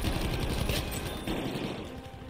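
Rapid gunfire in the video game Battlefield V, shotgun blasts among a dense burst of overlapping shots, loud and close for a couple of seconds before tapering slightly, with no talking.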